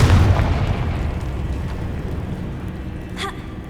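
A Confringo fire spell explodes in the video game Hogwarts Legacy, a loud boom at the start that rumbles and fades over several seconds, with a faint chime-like effect near the end.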